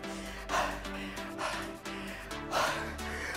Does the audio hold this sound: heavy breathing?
yes